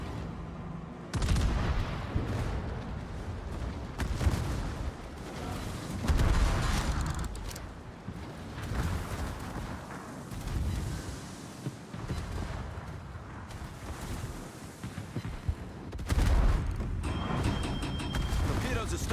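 Naval gunfire in World of Warships: repeated heavy booms and rumbling blasts spread through a dense game soundscape with music, some near and loud, others duller, continuing throughout.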